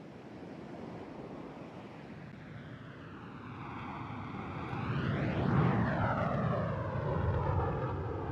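An F-22 fighter jet makes a low pass at an airshow, its roar building steadily into a loud, rushing engine sweep that peaks as it flies by and then holds as a broad, fading rumble.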